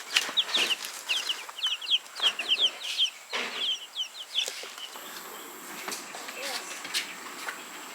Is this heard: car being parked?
no